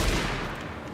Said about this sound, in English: I'm shooting you in the face